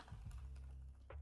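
Clicks of a loud computer keyboard being typed on at a desk, a few scattered keystrokes over a steady low hum, with no talking.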